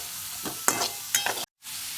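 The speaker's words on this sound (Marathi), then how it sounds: "सगळ्या भाज्या टाकून घेतल्या. आता चांगल्या परतून घ्यायच्या." Mixed vegetables sautéed and stirred in a pan, a low sizzle with two or three quick spatula scrapes close by, a brief cut to silence, then the sizzle resumes, with no voices.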